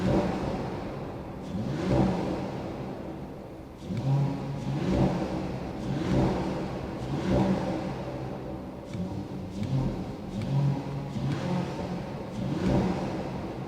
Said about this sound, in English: listening to the sound of the GLE53 AMG hybrid